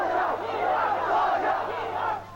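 Demonstrators in Tiananmen Square in 1989 chanting 'Sit down' in unison, a dense, loud crowd of voices rising and falling in a steady, continuous chant.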